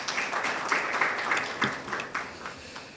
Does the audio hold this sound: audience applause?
yes